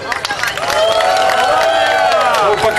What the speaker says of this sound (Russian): Медалисту аплодисменты.